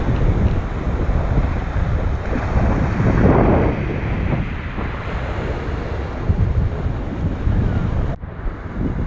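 Choppy sea and gusting wind at an island harbor, a steady loud rush of wind buffeting the microphone over churning water, continuous throughout with a brief dip near the end.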